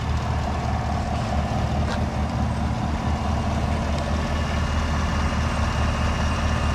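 A 2018 GMC Yukon XL sits with its engine idling smoothly and steadily, a low continuous rumble heard up close for several seconds without any talking.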